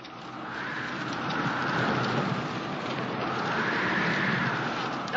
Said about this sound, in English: Wish this storm had broken and done with it.